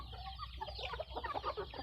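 Fighting cocks cluck in a rapid run of short, close calls over a steady low background hum on a farm.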